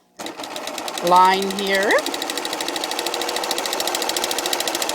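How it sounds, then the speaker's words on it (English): Sewing machine stitching hair locks into wefts, running in a steady rapid mechanical rhythm that continues throughout after a brief rising whine, with a voice speaking briefly near the start. "Okay, so I'm sewing and I'm just going to finish this"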